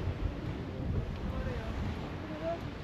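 Strong wind gusting along a beach path in Sokcho, a steady low rumbling buffet across the microphone with a faint wash of surf beneath it.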